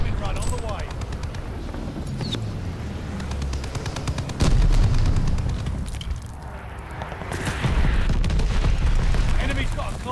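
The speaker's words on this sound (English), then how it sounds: "Friendly bombing run on the way." A friendly bombing run in the Call of Duty: Vanguard video game lands as a string of heavy booms and blasts amid gunfire, loud and continuous, with radio-style voices talking over the battle.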